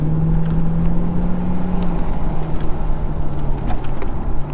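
A 2001 Corvette engine drones loud and close on a race track, holding a steady, slightly falling tone under throttle with no talking.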